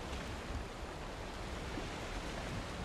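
Ocean waves washing against a boat run hard aground in the video game Valheim, a steady soft rushing wash of surf, faint and continuous with no distinct breaks.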